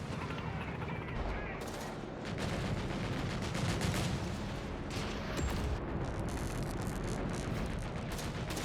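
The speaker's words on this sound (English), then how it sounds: "The AT guns do connect for a volley." Anti-tank guns fire a volley of incendiary rounds in the strategy game Company of Heroes 3, the shots blending into dense, continuous battle gunfire and distant blasts that persist throughout under faint game noise.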